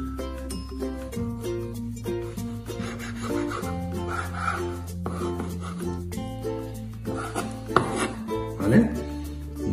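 A knife slices chicken breast into strips on a board, giving a series of short, irregular cutting knocks and scrapes up close, over steady background music.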